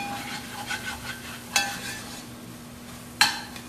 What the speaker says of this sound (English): Give this another stir.